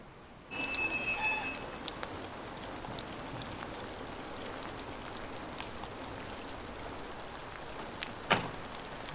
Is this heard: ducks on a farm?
no